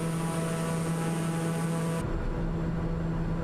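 ATR 72-600 turboprop airliner in flight in MSFS 2020, a steady loud propeller drone with a constant hum and whine, timbre shifting abruptly partway through as the cabin or view changes.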